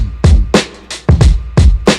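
A sampled drum break plays with a deep low-end kick layered under it, a punchy pattern of hard hits and crisp snare-like cracks in a steady loop, loud and close with no voices.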